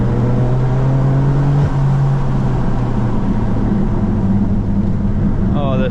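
A manual BMW M4 F82 fitted with an AWE exhaust accelerates hard from inside the car, a loud steady engine drone with a pitch step partway through, heard alone without talk.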